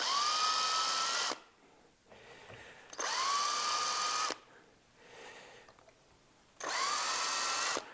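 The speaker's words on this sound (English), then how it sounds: "now we can just drill these 3 holes" Power drill boring three shallow holes into classical guitar wood, heard as three loud whining bursts of a second or more each, separated by short quiet gaps.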